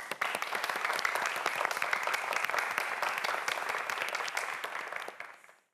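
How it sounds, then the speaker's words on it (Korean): A studio audience applauds four student contestants on a Korean quiz show, a dense, steady wash of many hands clapping for several seconds before tapering off quickly at the end. "4명의 학생 모두에게 다시 한번 큰 박수 부탁드립니다"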